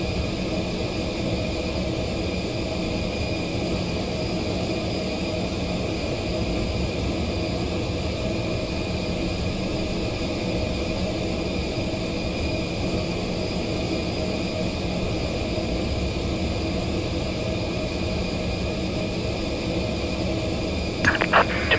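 Aircraft engines hum steadily at Inverness during pushback, a loud continuous whine and broadband roar heard from inside the cabin, unchanging throughout with no talk.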